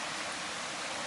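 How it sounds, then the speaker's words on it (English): Heavy rain pours down outside as a dense, even hiss that stays constant and moderately loud throughout, with no voices. "It is really coming down. We got a lot of rain"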